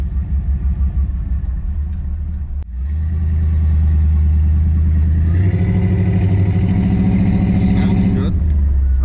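A purple hot rod fitted with a custom exhaust idles with a low, loud rumble, then revs up and pulls away as the engine note builds and stays steady and close.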